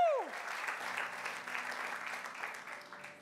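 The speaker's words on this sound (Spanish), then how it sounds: "denle un aplauso fuerte a nuestro Dios." A church congregation in New York applauds loudly and steadily throughout, a dense wash of clapping with a faint tone sweeping down at the very start.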